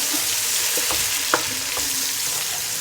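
Medium-sized onion slices frying in a pan, a steady close hiss and sizzle with a few soft stirring knocks scattered through it.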